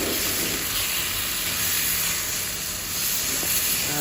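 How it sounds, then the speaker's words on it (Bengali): Lotta fish fry in a pan with ginger garlic paste, a loud, continuous close-up sizzle that stays steady from start to finish. "তারপর আমি লইট্টা মাছগুলো দিয়ে দিচ্ছি। তারপর মাছগুলোকে আমি ভালো করে ভাজবো।"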